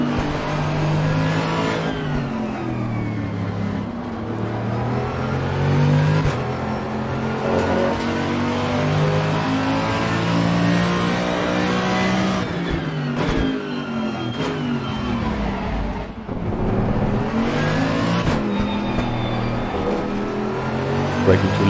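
Race cars in Assetto Corsa Competizione roar around the track, engines revving up and down through repeated gear changes, loud and continuous, with occasional voice over the top.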